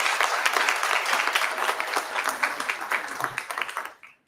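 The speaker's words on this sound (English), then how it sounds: "Let's give Fairmont High School a round of applause." A school board of education meeting audience claps for a high school's sports achievements, a lively round of many hands with slightly uneven bursts, fading out quickly near the end.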